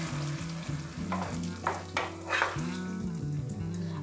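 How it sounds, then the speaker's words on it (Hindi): Masala and soya chaap being stirred with butter in a pan for malai soya chaap tikka, a steady sizzle with repeated scraping strokes close by, over a low background hum. "अब इस सारे मसाले को हम अच्छे से बटर के साथ मिक्स कर लेंगे।"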